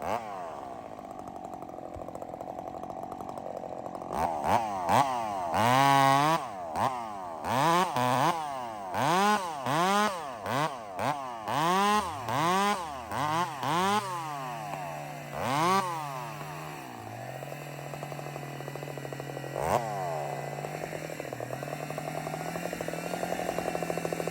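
Chainsaw cutting over the top of a log and kicking back, its engine revving in a rapid series of rising and falling surges, then settling into a steady idle with one more brief rev, close and loud.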